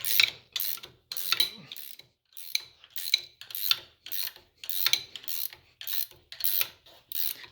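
Cranking the ram clamp free on a Bridgeport milling machine gives repeated mechanical ratcheting and grinding strokes, about a dozen in a steady rhythm with brief pauses between them, close and moderately loud.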